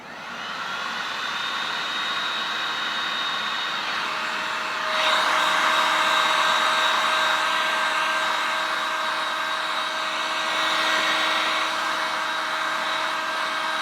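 A heat gun blows loudly and continuously while warming a sticker on a Honda 2200i generator, a steady whooshing roar with a tonal whine that grows slightly stronger partway through.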